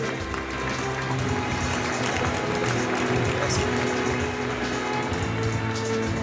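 Sustained crowd applause at a gastronomy and wine awards ceremony as the president of Inter-Beaujolais is called up, a dense, even, rain-like roar of many hands lasting several seconds, with voices mixed underneath.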